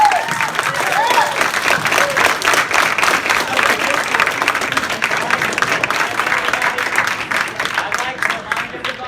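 Debate audience breaks into sustained applause with scattered cheers, a dense continuous clatter of clapping from a crowd that fades slightly toward the end.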